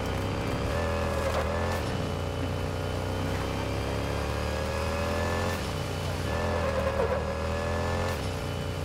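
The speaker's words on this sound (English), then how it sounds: "I'm riding my bike." A motorbike ridden in the video game Gotham Knights drones steadily with a continuous engine hum and passing traffic rushes, moderately loud throughout.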